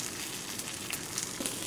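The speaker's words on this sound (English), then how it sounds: "Okay, so we're frying our eggs." Steady crackling sizzle of eggs frying in a hot pan, close and continuous with small pops.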